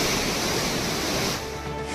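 Water roars down the Courtallam falls, a loud, dense rush that fills the scene, dipping slightly in level near the end, with no speech over it.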